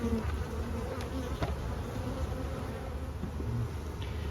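A dense, steady drone of honey bees buzzing around a hive during swarming activity, close and continuous with no talk.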